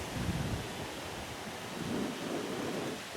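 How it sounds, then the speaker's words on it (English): Wind rushes outdoors in low, rumbling gusts that buffet the microphone, swelling and easing over a few seconds with no voices. "wasn't supposed to be as windy today"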